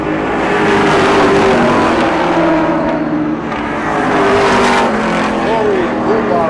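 Race cars on an oval track late in the race, about four laps from the end, rush past in a loud, continuous engine roar with rising and falling passes while a commentator talks over it.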